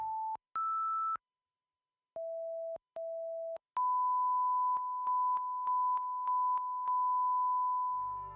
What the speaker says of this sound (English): The pair could be seen for a couple of hours every day, as part of BBC HD's preview slot, now complete with surround sound test tones.